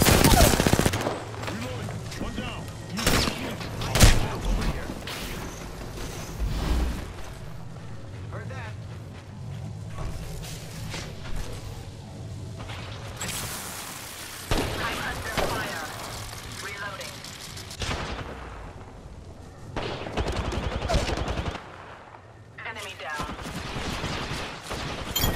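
Repeated bursts of gunfire crack in Apex Legends, loud rapid volleys clustered in several sharp waves between quieter stretches, with players talking throughout.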